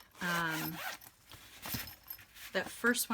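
A pencil case zipper is pulled open in a few short rasping bursts, close and quiet, with speech-like sounds around it.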